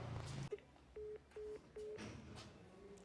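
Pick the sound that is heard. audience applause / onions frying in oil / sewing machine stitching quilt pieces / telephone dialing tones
telephone dialing tones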